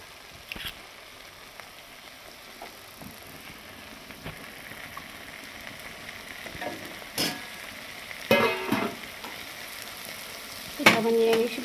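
Vegetables with raw tomato frying in a pan for a home-cooked bhaji, a steady low sizzle with occasional stirring scrapes and clatters, a few louder bursts near the end.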